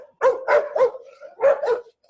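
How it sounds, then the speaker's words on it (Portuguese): An agitated dog barks in a quick cluster of three sharp barks, a brief pause, then two more, close and fairly loud with no talking. "Ó, tem um cachorro bravo."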